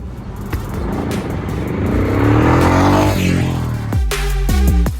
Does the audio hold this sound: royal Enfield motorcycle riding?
yes